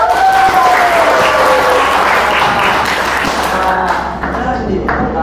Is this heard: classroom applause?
yes